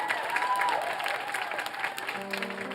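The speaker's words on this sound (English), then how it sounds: "I have to give a big round of applause to Gilles Parenteau." Audience applause during an interview with a singer and her former music instructor, moderate scattered clapping from a crowd with some background murmur and a faint tone.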